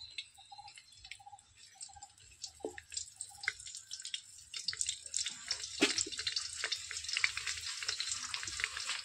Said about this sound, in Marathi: फोडणी टाकतोय मी तमालपत्र